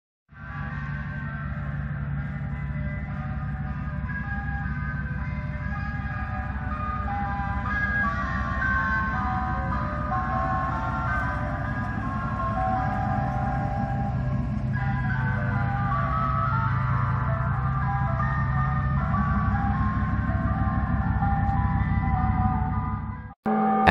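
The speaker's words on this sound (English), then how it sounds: "the music this ice cream truck plays sounds very terrifying" Creepy, discordant chime music plays continuously from an ice cream truck, a small blue van, with a wandering, uneasy melody over a low engine rumble.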